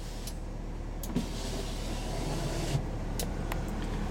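Electric power windows on a 2006 Dodge Ram 2500 Laramie 4x4 with the 5.9L Cummins diesel, a steady motor whir heard from inside the cab over a low idling hum, with a couple of faint clicks and no speech.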